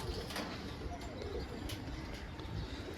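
Caged pigeons coo softly and low among ambient noise, faint and murmuring rather than distinct calls.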